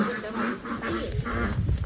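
A group of domestic ducks being herded on an evening walk quack repeatedly and close by, with overlapping calls through the whole stretch.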